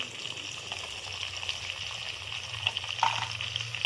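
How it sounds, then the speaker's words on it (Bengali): Mutton with turmeric and spices stirred in a hot pan for a curry, a steady close sizzle with soft scraping and a few brief clinks, no talking. "এবার একটু নেড়ে নিচ্ছি।"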